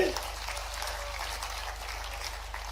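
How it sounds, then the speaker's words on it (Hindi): Audience of traders clapping loudly on cue during a speech, a steady, fairly faint wash of applause lasting throughout without pauses. "एक बार जोरदार ताली बजा करके"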